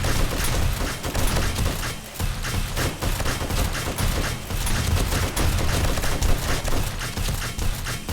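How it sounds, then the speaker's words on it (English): Continuous automatic gunfire from a weapon in 7 Days to Die, loud rapid shots running almost without pause over the full stretch, with thuds and game noise mixed in. "That gun is just going non-stop."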